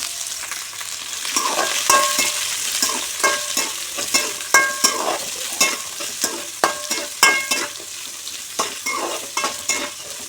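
Whole spices, cumin, fennel and finely chopped shallots sizzle in hot oil for a mutton curry, with repeated close stirring scrapes and clinks of a spoon against the pan over a steady fry.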